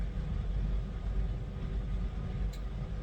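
Avanti West Coast train in first class, somewhere between Warrington and Carlisle, heard from inside the carriage: a steady low rumble and roll with constant broadband noise and a brief faint high squeal near the end, with no talk.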